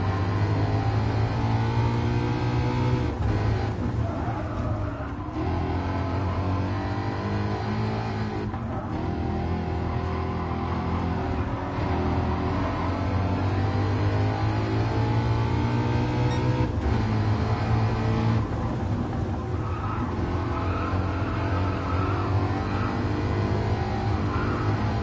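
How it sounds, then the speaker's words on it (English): A race car engine in Gran Turismo Sport revs hard and sustained, pitch rising and falling repeatedly with gear changes, loud and up close with no talking. "That car sounds amazing."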